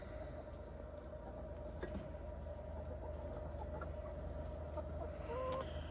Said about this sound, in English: You chickens are going to take over my yard